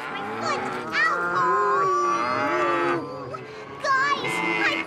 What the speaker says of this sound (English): Those cattle can get mighty restless.